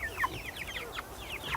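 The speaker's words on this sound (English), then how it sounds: "You can see the flock back here running around like crazy chickens." Chicken flock clucking and squawking in a chicken tractor, a quick run of short overlapping calls close by, moderately quiet with no talk over it.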